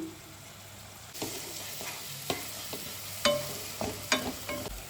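Chopped onion and green chilli frying in a pan for a homemade prawn chop, a steady sizzle with a series of sharp scraping stirs and clinks of a spatula, close and moderately loud, with no talking.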